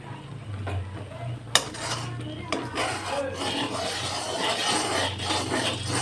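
Homemade ghee stirred continuously in a pot, a close scraping of a utensil against the metal with a couple of sharp clinks and a low steady bubbling hum underneath.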